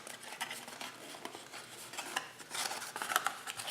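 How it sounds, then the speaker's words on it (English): Patterned designer-series paper folded into a no-glue flat box, giving a steady close rustle and scrape of paper being creased and pressed, with no talking. "Fold it up."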